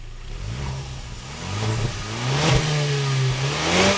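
A car engine on a new build revs up repeatedly over a rough, raspy exhaust, its pitch climbing and falling in several pulls, loud and close with no talking.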